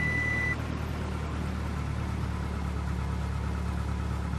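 A Cessna C-172 engine drones in FSX after the RPMs are brought back down, holding a steady, even hum throughout with no talking.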